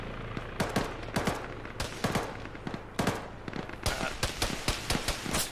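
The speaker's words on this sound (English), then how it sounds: "Who's shooting at me?" Military shooter gunfire in ShackTac ArmA, with rapid cracking bursts and single shots in irregular clusters, some close and sharp, others more distant, continuing across the stretch.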